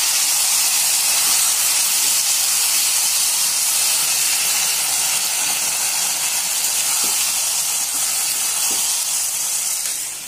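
Mua fish fries with salt in a hot pan, giving a loud, continuous, close hissing sizzle that barely changes from start to finish.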